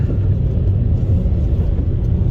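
A 2012 or later Chevy Sonic rolling over a bumpy gravel road, heard from inside as a loud, constant low rumble of tyres and road noise without distinct separate knocks.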